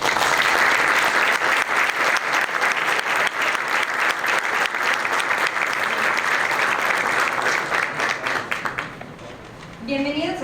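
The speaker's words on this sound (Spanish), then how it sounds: "Un aplauso, por favor." An audience at a book presentation attended by a cardinal breaks into sustained, loud applause, with dense clapping that holds steady for several seconds before thinning out near the end.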